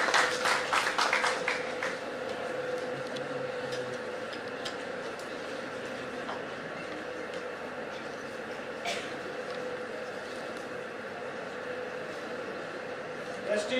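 Audience applause at a talent award ceremony, welcoming Dr. Jain onto the stage, with dense clapping strongest in the first two seconds and then settling into a steady crowd wash with voices over it.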